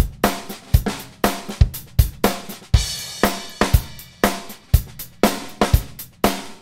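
A punchy drum groove plays alone, with sharp kick and snare hits, crisp cymbals and a steady driving rhythm.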